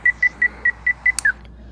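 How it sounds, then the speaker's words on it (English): A run of six short, evenly spaced electronic beeps, followed by a quick chirp and a final slightly lower beep, clear against a quiet background. "Stop making beeping sound"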